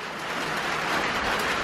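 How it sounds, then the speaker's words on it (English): Steady video-game rain on a tundra hisses continuously across the whole stretch, dense and even, with no voices over it. "I love the sound of the rain on the tundra."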